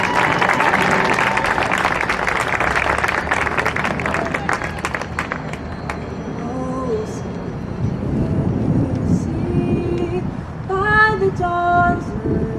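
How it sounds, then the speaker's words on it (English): An outdoor crowd at a run event claps loudly for a singer and the Medford High School band, with cheering and crowd babble mixed in. The applause fades as the band begins playing. "Please give them a nice big round of applause."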